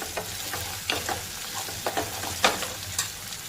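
Green peas frying on onions in a pan for a Konkan-style mixed vegetable curry, with a constant soft sizzle under regular scraping strokes of a spoon stirring them.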